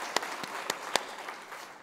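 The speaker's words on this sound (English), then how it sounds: "that absolutely deserves some applause." An audience at a conference ideas stage gives faint, sparse applause, a few distinct claps heard at a distance over a soft background hum.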